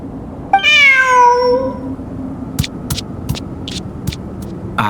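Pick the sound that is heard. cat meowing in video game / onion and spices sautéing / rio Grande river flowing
cat meowing in video game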